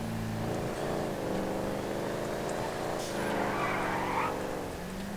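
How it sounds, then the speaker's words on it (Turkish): In GTA 5, a 1969 Ford Mustang Boss 302 skids through sharp turns, its engine droning steadily while the tires squeal and slide across the pavement, with someone talking over the game audio. "Gördüğünüz gibi şöyle ani dönüşlerde araba çok fena kayıyor."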